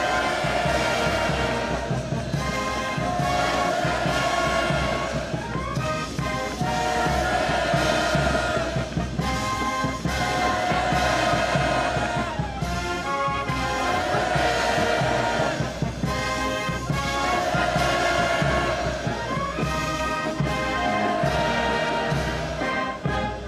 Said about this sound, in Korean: 폭풍 같은 만세 환호성을 터치올렸습니다